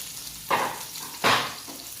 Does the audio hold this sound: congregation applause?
no